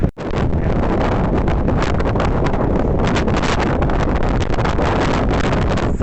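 Strong gusting wind buffets the microphone outdoors on a sandy windy day, a loud continuous roar with rumbling, crackling bursts that never lets up.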